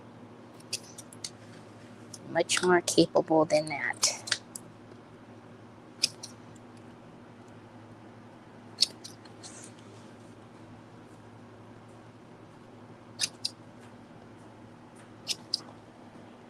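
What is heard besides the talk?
cutting with scissors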